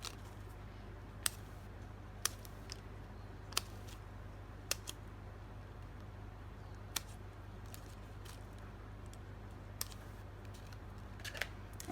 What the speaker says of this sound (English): I just like to go along and snip them up.